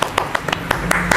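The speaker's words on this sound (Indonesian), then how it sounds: "tepuk tangan dulu teman-teman" A small group at a road-bike review for a Pinarello Dogma F10 bursts into a short round of quick, sharp hand claps lasting about a second, close and clear.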